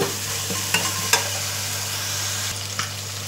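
Ginger-garlic paste, onion and blended tomato masala frying and being stirred in a pan for a fish fry curry, a steady close sizzle with a few sharp spoon scrapes against the pan.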